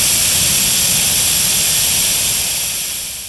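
Loud continuous broadband roar with a steady high hiss on a drilling installation, consistent with gas escaping from a leak after two valves were left open; it holds steady, then fades slightly at the end.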